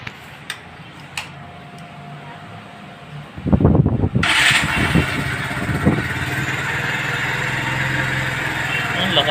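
A Kawasaki Barako 3 FI motorcycle sits quiet, then cranks with a short burst and catches. Its engine settles into a loud, steady running drone close by.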